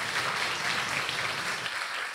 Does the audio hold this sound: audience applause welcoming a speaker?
yes